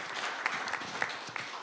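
Audience applause at a talk on Social Security, a steady wash of clapping filling the short stretch at moderate volume with a few sharper claps standing out.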